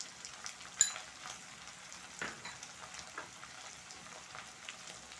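Eggplant sautéing with salt, turmeric, green chilli and chilli powder in a pan for a vegetarian Bengali dish, a steady soft sizzle with faint stirring scrapes and a sharper clatter near the start, no voices.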